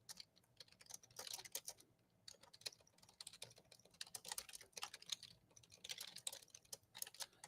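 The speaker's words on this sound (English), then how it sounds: "just typing some information to them with that report" Quick typing on a computer keyboard during severe weather coverage, close and fairly quiet, with irregular bursts of rapid key clicks separated by short pauses.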